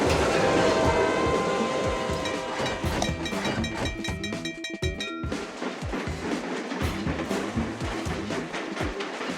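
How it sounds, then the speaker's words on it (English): A high-speed train in the video game Train Crisis sweeps past with a rush of clattering rail noise and bright ringing tones, loud at first and then breaking into rhythmic clacks as it moves off. "Pay attention to the new high-speed trains."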